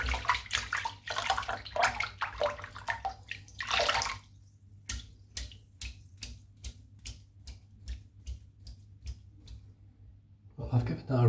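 Water running and splashing as soap is rinsed from a dense shaving brush knot, first a continuous splashing gush, then a string of sharp, evenly spaced flicks and taps, close by.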